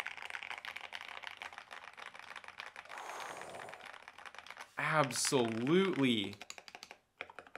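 Typing on a mechanical keyboard fitted with Akko clear keycaps, a fast run of close, bright clacks for most of the stretch, then a speaking voice that takes over near the end.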